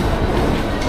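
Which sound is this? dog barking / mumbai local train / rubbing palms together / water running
mumbai local train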